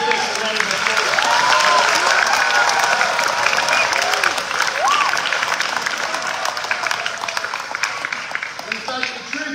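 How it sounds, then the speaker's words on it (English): A school graduation audience applauds loudly at a Year 12 ceremony for the graduating prefects, a dense wash of clapping and crowd noise that slowly thins over several seconds, with some voices mixed in. "Please give Riyad and the Prefects a round of applause"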